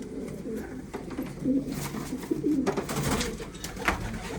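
Pigeons of fancy breeds coo softly and repeatedly at close range, with some rustling and background noise and no talking.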